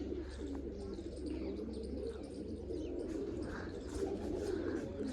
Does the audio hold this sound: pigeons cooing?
yes